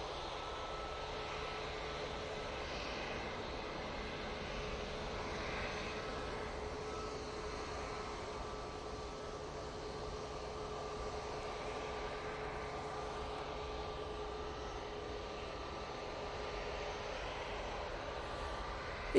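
An EasyJet airliner's jet engines run at Manchester Airport, a steady, moderate roar with a sustained tonal whine on top, holding evenly for the whole stretch with no voices.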